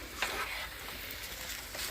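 Fried rice with sesame oil is stirred in a hot pan, a soft continuous sizzle with light scraping close by.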